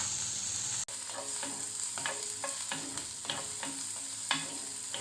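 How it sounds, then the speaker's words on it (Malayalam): Sliced onions sautéing in hot oil in a pan: a steady sizzle with repeated scraping stirs of a spoon at an uneven rhythm, close and moderately loud, with a sharp clatter near the start and no talking. "ഇതിലേക്ക് 2 മീഡിയം സൈസ് സവാള കട്ട് ചെയ്തത് ഇട്ട് കൊടുക്കാം. എന്നിട്ട് നമുക്കൊന്ന് വഴറ്റിയെടുക്കാം."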